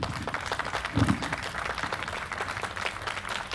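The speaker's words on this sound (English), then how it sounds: "a round of applause for yourselves for coming out today and acknowledging Juneteenth" Crowd applause at an outdoor Juneteenth celebration in Danvers, a dense, steady patter of many hands clapping at moderate loudness with no speech over it.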